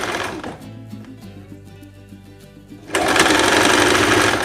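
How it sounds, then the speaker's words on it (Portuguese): A sewing machine runs a straight seam on a dress. The close motor whirs with a rapid stitching rhythm, goes quieter and more uneven partway through, then speeds up into a loud, dense, continuous hum near the end. "vai passar uma costura reta e depois você faz o acabamento. Ou na overlock ou no zigue-zague"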